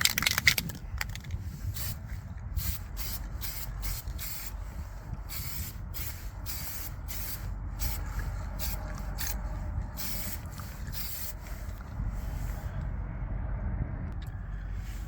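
Rust primer sprayed from an aerosol can onto the rocker panel of a 2014 Ford F150, heard as a series of short, close hissing bursts over a steady low rumble.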